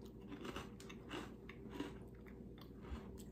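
Crunchy caramelized Biscoff cookies bitten and chewed close to the mic, a soft continuous crunching with a few sharper crackles and no talking.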